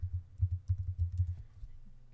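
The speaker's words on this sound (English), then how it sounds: "So I'm going to type that in" Quick, soft keystrokes on a computer keyboard arrive in an uneven burst of taps close by, clustering densely before thinning out and stopping near the end, with no talking over them.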